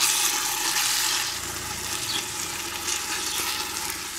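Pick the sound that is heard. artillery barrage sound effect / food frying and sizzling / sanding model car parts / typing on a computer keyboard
food frying and sizzling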